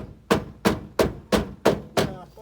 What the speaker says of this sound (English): Let's get that bolt a little